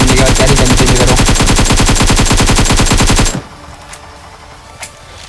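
Rapid automatic gunfire from a gun in a battle royale shooter video game, a loud, evenly spaced stream of shots hammering for about three seconds before cutting off, then a few faint clicks.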